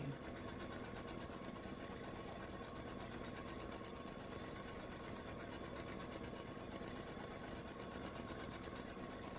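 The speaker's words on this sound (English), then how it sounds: "It stitches it one way, it comes back, it stitches it another way." A computerized embroidery sewing machine stitches free-standing lace for a hibiscus flower earring, running as a steady, continuous mechanical whir with a fast needle rhythm, close and alone throughout.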